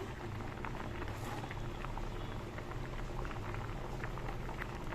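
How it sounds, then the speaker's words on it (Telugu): Rice boils in a pot for ragi sangati, the water bubbling and popping in a busy, steady churn that stays close and fairly quiet. "మనకి అన్నం ఇలా చూసారా, ఇలా ఉడకాలండి"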